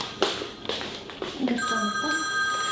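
A mobile phone rings in a home kitchen, its steady electronic ringtone starting partway through and continuing clearly after a few sharp knocks and clatters.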